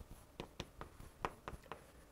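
Quick strokes of writing on a board during a math lesson: about eight short, sharp scratches in an uneven rhythm, close and fairly quiet, with no voices.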